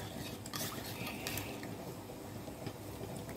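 A spoon clinks and scrapes rapidly inside a metal tumbler while mixing rasam, a steady close stirring rattle with no speech.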